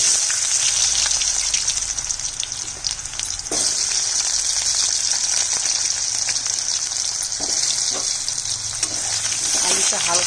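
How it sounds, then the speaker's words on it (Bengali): Potatoes sizzle steadily in a hot pan of oil tempered with chili, two bay leaves and cumin, a loud, continuous crackling fry with occasional stirring scrapes. "আলুটা হালকা ভাজবো"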